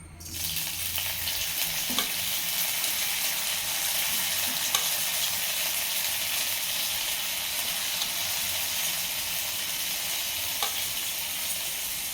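Raw rice frying in oil that has not fully heated, giving a steady loud sizzle with a few sharp pops scattered through it.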